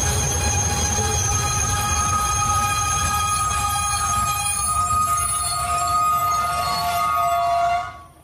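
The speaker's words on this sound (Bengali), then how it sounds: "ট্রেনটা যখন নেত্রা স্টেশনে থামল" A train pulls into Netra station in the evening. Its wheels give a loud, sustained metallic squeal over a low rumble, then fade out at the very end.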